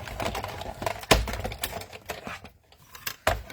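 A die-cutting machine cuts paper nearby, giving a short stretch of clicky, clattering mechanical taps with a few sharper knocks, fairly quiet and with no one talking.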